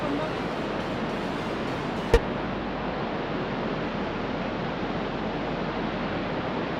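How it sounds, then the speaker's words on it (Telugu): Flowing water of a mountain stream near Banff in Alberta, a steady broadband rush close by with one sharp click partway through and no talking. "ఈ నేచర్, ఆ వాటర్ సౌండ్ చాలా అంటే చాలా ప్లెజెంట్గా ఉంది."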